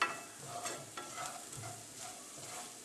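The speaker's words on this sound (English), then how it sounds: "Garlic's getting a little toasted, which is fine." Garlic sizzling and toasting in a pan alongside cooking eggs, a steady close crackle with faint stirring scrapes and no talking.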